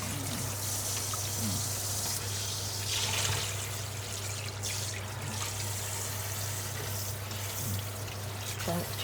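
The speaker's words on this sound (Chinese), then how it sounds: "冲水一下" A wok in a Malaysian Hokkien mee kitchen gets a quick rinse: a steady stream of water runs and trickles over the hot pan under loud, constant kitchen hum and burner roar, with no clear speech.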